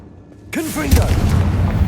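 Fiery Confringo spell blast in the Hogwarts Legacy video game: a sudden loud whooshing burst with a booming low rumble that lingers and crackles for over a second after the hit.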